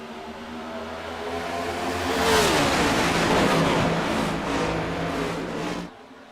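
iRacing Cup Series stock cars at a race start at Autódromo Hermanos Rodríguez in Mexico City, video game; a pack of engines roars and rises in pitch as they accelerate, loud and close, then cuts off abruptly near the end.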